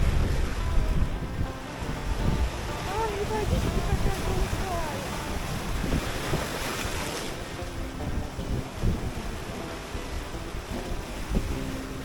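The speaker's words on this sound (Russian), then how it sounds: "большая волна." Heavy ocean surf rolls and crashes continuously, close by, on the coast of Malta, with gusty wind buffeting the microphone throughout.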